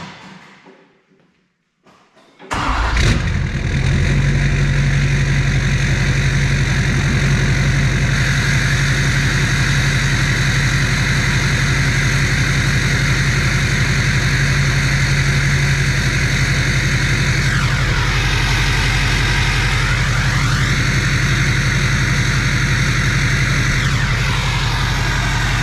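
An LBZ Duramax diesel truck engine with a 4-inch exhaust cranks and roars to life, then settles into a loud, steady rumbling idle with brief revving swells later on.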